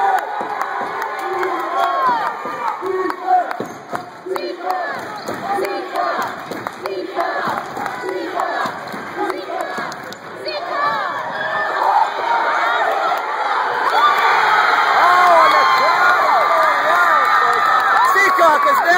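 Packed gym crowd at a high school varsity basketball game between Seekonk and DR, roaring, shouting and whooping continuously, swelling louder toward the end, with an announcer talking over the din.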